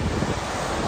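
Ocean surf breaking along the Seogwipo coast near Beomseom island on Jeju, a loud, continuous wash of waves mixed with strong wind buffeting the microphone, with no voices heard.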